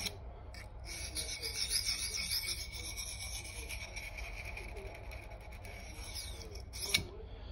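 A dull knife is drawn along a sharpening stone or rasp in a steady series of close, dry scraping strokes, ending with a brief sharper scrape.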